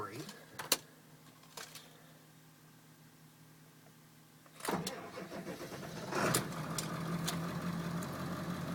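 A 2001 Ford F250 7.3L diesel 4x4 Lariat pickup cranks and fires, catching with a loud burst midway and settling into a steady idle after a few quiet clicks and thumps at the start.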